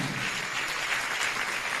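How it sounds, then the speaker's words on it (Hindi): A large audience claps loudly and steadily at a religious discourse gathering, a thick continuous roar of applause without breaks. "जोरदार तालियों के साथ अनुमोदना करें।"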